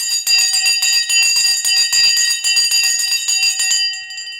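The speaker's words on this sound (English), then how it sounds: "Let's ring the bell." A loud bell rings rapidly and continuously for close to four seconds to close the stock market trading session, then its ringing fades out.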